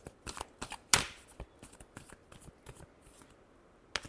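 Tarot cards being shuffled by hand in a quick run of soft riffling slaps and flutters, with one sharp louder snap near the start and a final flick at the end, close and quiet with no talk.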